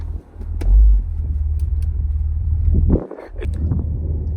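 A BMW Z4 M40i with the B58 engine and an aftermarket downpipe starts up, a steady low rumble of idle with a sharp catch and swell near the end, close and fairly loud.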